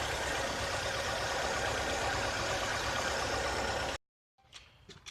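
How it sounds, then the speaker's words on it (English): A misfiring 2.2L Ecotec engine runs and shakes, giving a loud, rough, steady roar heard close up. It cuts off abruptly near the end and leaves faint scattered noises. "I put my hand on the engine, the whole thing's just kind of shaking,"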